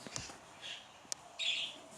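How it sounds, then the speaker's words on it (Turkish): A small bird gives a few sharp, high chirps and squeaks, scattered irregularly over a quiet room background. "Benim kuş bağırıyor."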